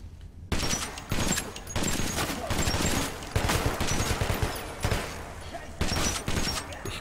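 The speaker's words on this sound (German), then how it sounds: "Hab ihn unter Beschuss, Leute." Rapid gunfire bursts from Metro 2033 crack out in a dense, continuous volley, with short pauses between strings of loud, close shots.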